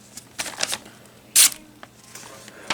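A Mora Carbon Pro knife blade cutting, heard as a few crisp scraping strokes with one sharper, louder rasp midway, close up and with no talking.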